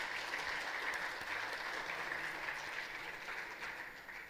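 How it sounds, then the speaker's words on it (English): An audience applauding at a university workshop on intellectual property rights, a sustained wash of many hands clapping from a distance, steady and then gradually fading toward the end. "please give a huge round of applause for Dr. Amrish Dubey, Sir, Coordinator of IPR Workshop"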